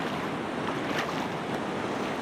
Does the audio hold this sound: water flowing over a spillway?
yes